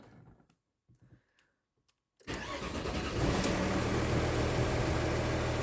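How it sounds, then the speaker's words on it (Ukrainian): An Audi engine with a faulty injector needle sensor is cold-started: a brief starter crank follows a few quiet clicks, then the engine catches and settles into a steady, close idle. "попробуємо завести автомобіль"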